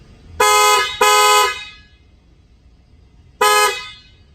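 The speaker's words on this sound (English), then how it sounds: "showing you the Agile Offroad horn upgrade kit available for the Mercedes Sprinter" Loud horn blasts from an Agile Offroad upgrade horn on a Mercedes Sprinter van: two quick honks back to back, a pause, then a third, close and piercing.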